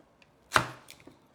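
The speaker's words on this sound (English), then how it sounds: "I'm going to use another knife, which will actually cut through this. Because carrots are quite tough." A single knife chop cuts through a tough carrot on a board, one sharp close thud followed by a couple of faint small knocks, with no talk.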